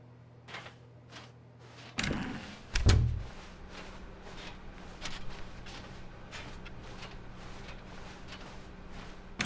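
A door in an office building in The Stanley Parable: Ultra Deluxe opens with a thud and then a heavier bang, followed by soft footsteps over a low ambient hum.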